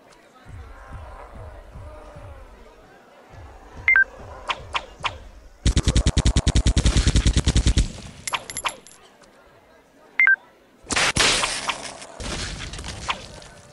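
Bursts of rapid gunfire from a circus-themed zombie clown shooting game on a phone, with short automatic volleys, scattered single shots and electronic beeps between quieter stretches, no talking.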